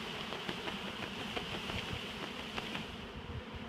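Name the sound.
swarm of honey bees buzzing, shaken near hive entrance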